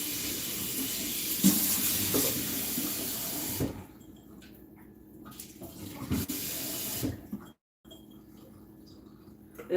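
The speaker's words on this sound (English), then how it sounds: "so I will wash this rice. Make sure to wash your rice, guys." Rice being washed under a running kitchen tap, a steady hiss and splash of flowing water that is loud at first, then quieter and more broken, with a brief dropout near the end.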